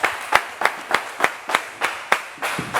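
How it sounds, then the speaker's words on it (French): A studio audience on a live French TV show claps for newlywed couple Vitale and Momo Wang, with about nine sharp, evenly spaced claps close to the microphone and no talking. "On va les applaudir encore plus fort, s'il vous plaît."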